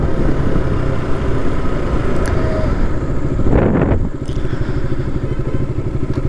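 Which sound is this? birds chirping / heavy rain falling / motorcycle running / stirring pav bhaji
motorcycle running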